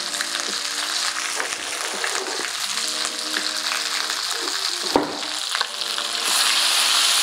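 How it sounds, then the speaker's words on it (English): Curry paste frying in a hot pot for Nigerian fish curry, a steady close sizzle and crackle with occasional stirring scrapes and clinks throughout, no talk. "So I'm going to go in there now with curry paste."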